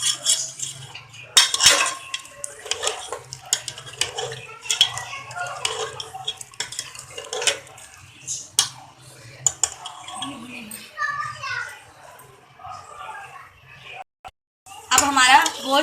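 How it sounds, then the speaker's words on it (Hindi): Yogurt is fried and stirred together with beef and spices for nihari, the spoon clattering and scraping in the pot in irregular bursts over a soft sizzle, with indistinct voices at times. "दही को भी खूब अच्छे से भूनेंगे।"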